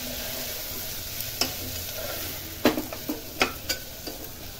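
Turmeric and red chili powder are stirred into masala cooking in a pan: a quiet background sizzle with a handful of sharp spoon scrapes and taps against the vessel, close by.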